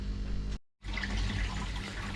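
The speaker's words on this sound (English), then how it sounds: "We're just topping back up with water." Water runs steadily into a koi pond filter during a top-up after a filter clean, a continuous near splashing rush broken by one brief silent gap, then resuming at the same level.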